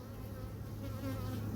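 Honey bees hum steadily at a hive being checked for varroa mites, a dense, continuous drone close up that swells slightly toward the end.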